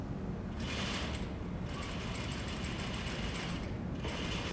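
Sewing machine stitching a finished plain seam, a steady close mechanical whir with a fast regular needle rhythm running the whole time, alone with no talk.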